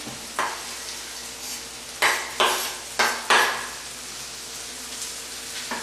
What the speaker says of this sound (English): Okay, our onions go in with our green peppers and our tomatoes.